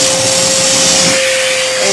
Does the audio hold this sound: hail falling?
no